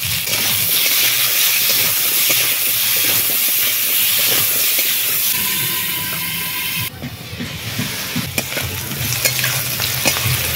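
Potatoes with salt and turmeric fry loudly in hot oil left over from frying fish, giving a dense, steady sizzle up close. Partway through it shifts to a lighter, crackling hiss with some scraping, and no one speaks.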